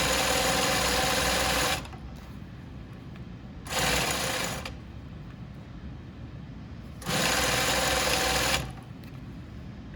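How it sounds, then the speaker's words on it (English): A sewing machine stitches a shirt sleeve in three loud, steady runs of rapid needle hammering, each separated by a brief pause, heard close and without talk. "I'm sewing from pin to pin."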